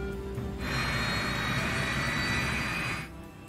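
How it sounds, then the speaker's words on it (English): Jet engines of a Yak-42 airliner spooling up on start, a loud steady whine and roar that holds for a few seconds before dropping back. "The crew starts the Yak's 3 engines."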